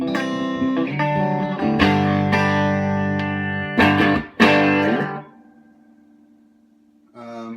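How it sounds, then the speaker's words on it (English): Clean electric guitar through a Gibson GA19RVT Falcon tube amp with spring reverb, strummed chords ringing out and decaying into a lingering reverb tail, with a brief final strum. "So the reverb, I promised you some reverb."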